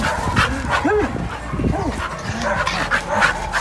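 Enzo, a playful puppy-like dog, yips and barks in short bursts during a game of fetch, mixed with yelps and close-up scuffling while people talk nearby.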